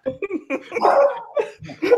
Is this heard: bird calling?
no